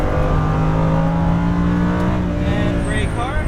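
A Lamborghini Huracan engine revs hard while accelerating out of a turn on a track, its rising harmonic drone loud and close throughout, with someone talking over it.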